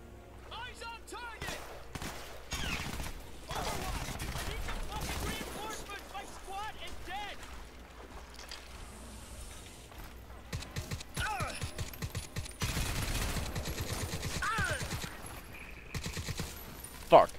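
Enemy gunfire in the first-person shooter Crysis 3, with repeated bursts and single shots scattered through the clip over a busy bed of game sound effects, fairly loud and close.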